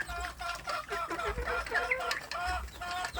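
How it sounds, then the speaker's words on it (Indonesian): Small free-range village chicken chicks cheep and cluck close by in a pen, a busy overlapping chorus of short peeping calls with light rustling underneath. "kelompok anak ayam kampung yang paling kecil yang ada di box ini saya masukkan ke dalam kandang ini"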